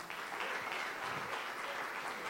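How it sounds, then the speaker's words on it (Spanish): Church congregation applauding, a steady dense wash of clapping that holds evenly throughout without pause. "Le damos otro aplauso al Señor."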